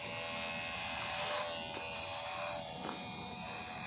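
Electric hair clipper buzzing steadily while shaving a child's head, a close, even hum that holds throughout with small shifts as the blades move over the scalp.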